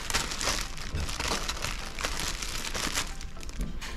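Plastic wrapping comes off a helmet box with continuous close crinkling and rustling, dense and irregular, with no talk over it.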